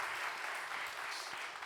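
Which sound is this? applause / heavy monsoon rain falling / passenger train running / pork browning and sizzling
applause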